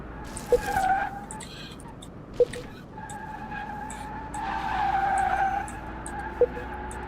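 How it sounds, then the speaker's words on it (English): Tires skidding and squealing in Car Mechanic Simulator 2021 on a test track, with no engine sound: a car sliding in long sustained squeals, mid-distance, with a few sharp clicks between them. "this thing shouldn't have any engine sound. Yeah, it should just be tires"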